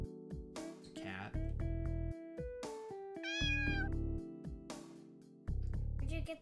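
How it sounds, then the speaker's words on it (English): A video game cat meows several times over chiptune-style game music with synthesized tones, the meows clear and close. "the cat noise that's already built into the game"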